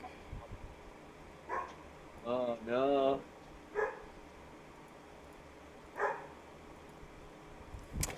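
A dog in a Battlefront 2 session barks in a few short, separate bursts, some of them yippy and rising, spread across a faint background, with a brief spoken exclamation in the middle.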